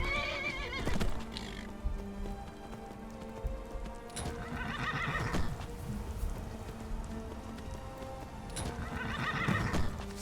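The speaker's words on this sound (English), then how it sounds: "we've got ourselves a horse." A horse in the video game Skyrim whinnies loudly several times while its hooves clip-clop steadily, with a soft rain-like hiss running underneath throughout.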